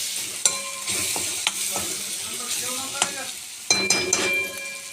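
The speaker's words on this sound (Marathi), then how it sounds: "हे असा मस्तपैकी परतून घ्यायचं याला।" Tomato chutney with peanut powder is sautéed in a pan, making a steady close sizzle broken by sharp spatula clinks and scrapes at irregular intervals.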